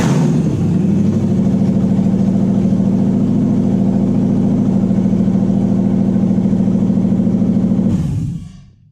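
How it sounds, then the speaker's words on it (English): A Toyota 1UZ-FE V8 swapped into a Daimler cranks briefly, fires and settles into a loud, steady idle close by, then cuts off and fades quickly. "We start the engine."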